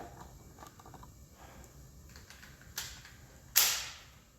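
A Ruger EC9S pistol fires NATO-spec ammunition, two sharp shots about a second apart over quiet outdoor background, the second louder with a brief decaying tail.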